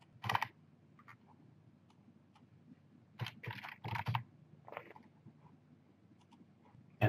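Typing on a computer keyboard, in quiet, close-up bursts of clicky keystrokes separated by pauses, with a louder cluster of keys near the middle and a final sharp tap at the end.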